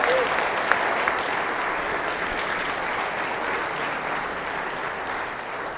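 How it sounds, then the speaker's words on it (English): A church congregation gives steady, sustained applause after a guitar performance of a song during a homily, the clapping even and unbroken throughout. "give them a round of applause."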